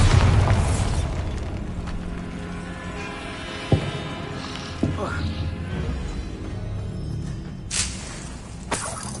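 Exploding spell blasts in the Hogwarts Legacy video game: a loud opening burst, then scattered sharper pops and booms, with a voice speaking over the game sound.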